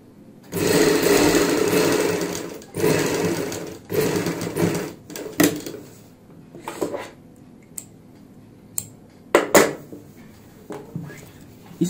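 Sewing machine stitching a ban neck collar with lace onto a kurti, running in several close, loud bursts of rapid stitching separated by pauses, with short clicks and handling noises between runs.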